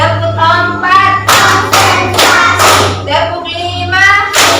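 Children in a classroom clap in a counting clap game, groups of sharp claps in quick bursts between chanted counts, with a steady low hum in the room.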